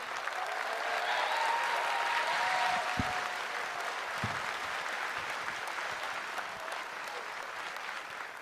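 An audience at the Suci 12 stand-up comedy show applauds comedian Eja Saputra, a dense, even wash of clapping that swells early and tapers slightly, with a couple of brief thumps mid-way.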